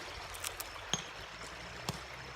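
A small creek trickles between many loose rocks in a rocky creek bed, a faint steady burble with a few brief bright clicks and splashes, heard alone without talk.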